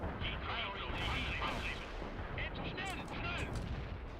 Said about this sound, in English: You damn right I continue to hit it with laser-guided bombs.